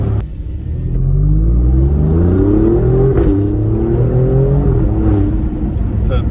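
An Alfa Romeo Quadrifoglio with a centerline X-pipe exhaust revs up hard with a rising whine and exhaust roar, a couple of sharp cracks popping through near the middle and end.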